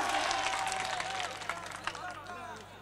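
Audience at a mushaira poetry recital breaking into loud applause, dense clapping mixed with cheers and crowd voices, fading somewhat toward the end.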